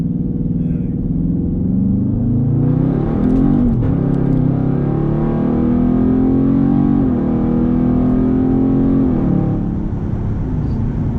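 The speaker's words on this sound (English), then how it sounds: "That's what I feel like the muffler delete gives you, that good sound." A widebody Scat Pack car engine with a muffler delete rumbles loudly with a deep, throaty exhaust note, the pitch rising and falling as it revs, close and continuous.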